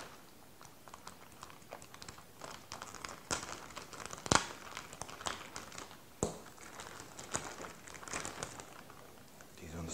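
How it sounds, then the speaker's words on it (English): Plastic bag of board game monster miniatures for Mansions of Madness being cut open and crinkled, with crisp rustles and small snips close by over faint background noise. "So I'll just cut that open."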